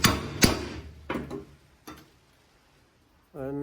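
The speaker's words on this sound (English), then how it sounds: "I'll get a chisel in that slot there" Sharp metallic hammer blows on a chisel driven into a cut slot in a car halfshaft retaining ring, about four distinct strikes, close and loud at first and then lighter, ending in a short ringing tone.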